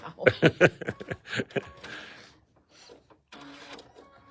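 A sewing machine stitches fabric pieces together for a star-spangled table runner and pillow, starting with a rapid series of loud, rhythmic mechanical thumps that slow and fade into quieter whirring, close up.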